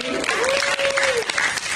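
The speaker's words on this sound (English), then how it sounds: "can we get another round of applause for this group?" A brief burst of audience applause for a presenting group, dense clapping with a voice speaking over it.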